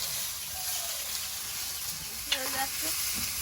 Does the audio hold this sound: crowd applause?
no